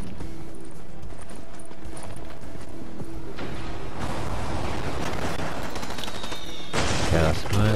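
Gunfire in the Fortnite video game comes as bursts of rapid shots that crackle over steady game ambience, with a louder blast near the end.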